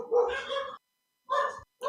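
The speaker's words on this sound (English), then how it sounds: "Please excuse my dogs in background." Dogs inside a home bark in a few loud, close bursts with short gaps between them, some yips and whimpering in the mix, and no talk.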